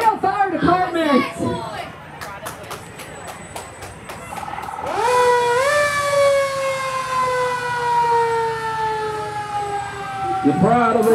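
An Olive Hill Fire Department engine passes in a small-town parade with its siren wailing. Horn blasts come first, then the loud rising siren holds for several seconds under crowd chatter and an announcer's voice.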